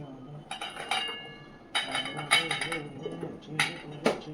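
Chopped ivy gourd pieces drop into a bowl in a home kitchen, several light clinks and clatters in uneven bursts while a person talks over them.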